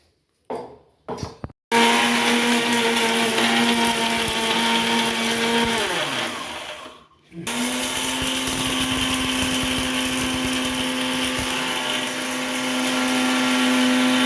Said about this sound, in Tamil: நான் வந்து இந்த மிக்சி கப்பில் எல்லாத்தையுமே நான் அரைச்சிட்டு வந்து சொல்கிறேன்